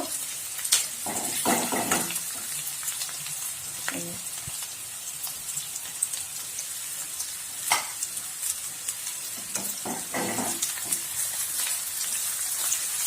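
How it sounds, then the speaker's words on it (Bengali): Onions fry in hot oil in a pan, a constant bright sizzle with occasional louder scraping and stirring bursts, steady and close with no talking. "পেঁয়াজ ভালো করে একদম সুন্দরভাবে ভেজে নিব"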